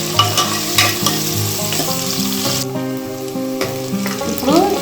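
Sliced onions fry in a pan with other ingredients for an Andhra-style brinjal curry, giving a loud, close, continuous sizzle with occasional stirring scrapes and no speech.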